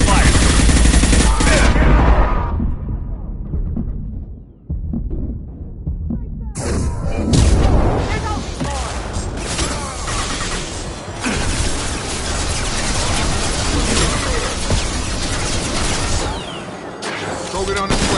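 Sustained rapid gunfire from a Mass Effect 2 firefight on Insanity difficulty, loud dense bursts and rattling volleys filling nearly the whole stretch with a brief lull, a voice speaking over the shooting.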